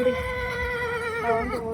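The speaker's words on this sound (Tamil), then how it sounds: "அத்தனை குதிரைகள், கணக்கில்லாத குதிரைகள் வந்திருக்கு" A horse neighing at a crowded cattle market near the Gurunathaswamy temple, one long wavering whinny close by, clear above a low murmur of background noise.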